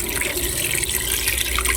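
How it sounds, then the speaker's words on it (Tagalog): Water pours steadily into a pot for beef stew, a continuous close splashing and gurgling stream. "lalagyan ko na po siya ng water"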